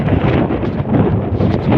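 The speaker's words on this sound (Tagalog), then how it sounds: "Sobrang lakas ng hangin." Loud wind roars and buffets the microphone in a continuous rumbling blast, with no pause, over flooded rice fields by a bay.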